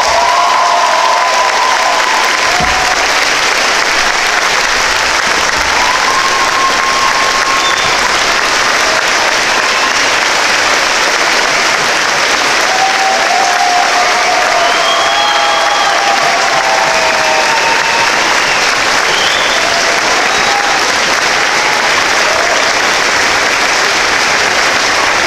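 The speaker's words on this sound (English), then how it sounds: "One more round of applause." Graduation ceremony audience applauding for 2017 graduates, a steady wash of clapping from a large crowd lasting throughout, with a few scattered cheers and whistles rising above it.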